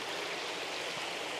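Water trickles from a koi pond waterfall in a garden, a soft, even, continuous burbling flow heard up close and unbroken, with no voices.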